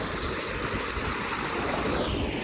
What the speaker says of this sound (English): that's a 15-inch pipe, that is, so that's a lot of water flowing down there